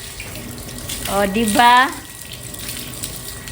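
Tap water runs steadily into a basin while pet dogs are being bathed at home, a soft continuous splashing hiss that carries on under a woman's brief spoken words.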